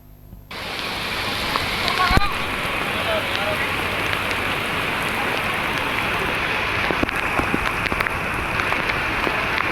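Rain falls steadily over Hyderabad neighbourhoods such as Charminar, Malakpet and Secunderabad. A dense, even hiss of drops on surfaces begins abruptly and continues at a constant loud level with occasional louder spatters.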